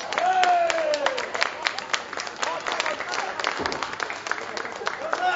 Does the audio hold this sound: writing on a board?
no